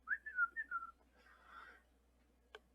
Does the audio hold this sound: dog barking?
no